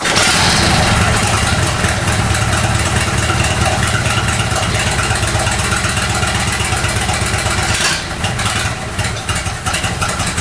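A restored Matchless Model X motorcycle engine runs loud and close, a steady rapid thumping beat with a brief change in tone near the end, no voices over it.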